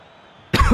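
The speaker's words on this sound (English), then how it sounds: "if you think the cough is annoying" A person gives one sudden, close cough after a moment of near silence, short and abrupt.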